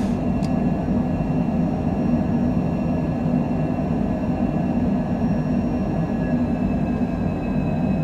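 A Cessna jet climbs after takeoff, its engines a steady, loud broadband roar with a low rumble and faint high whine holding evenly throughout, heard from inside the aircraft.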